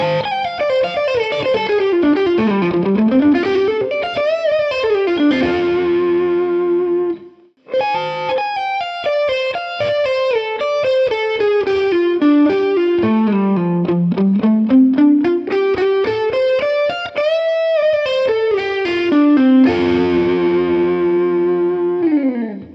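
Distorted electric guitar plays a pentatonic lick with fast bending runs and a closing double stop, loud and continuous with a brief gap near seven seconds and heavy effects.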